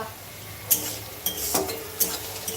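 Saag greens being stir-fried in a pan at home: a quiet steady sizzle with a few sharp clinks and scrapes of a spatula against the pan, no voices.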